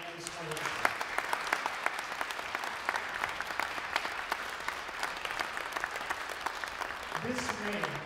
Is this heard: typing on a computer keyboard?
no